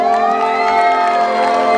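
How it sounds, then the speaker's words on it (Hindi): Crowd of children cheering and shouting at a school annual day, a loud, sustained chorus of high voices with whoops, continuous and close, with little clear clapping. "round of applause and we clap for them"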